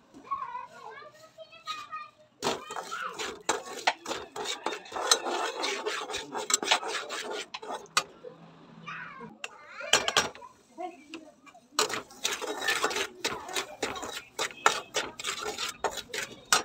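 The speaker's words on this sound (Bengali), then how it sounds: "সুজি আৰু চাউলৰ গুড়িৰ হালুৱা এইখিনি এতিয়া ভাজি লম" Semolina and rice flour halwa being fried in a pan, a steady gritty scraping and rasping of a spoon against the pan that pauses briefly and resumes, with faint household voices in the background.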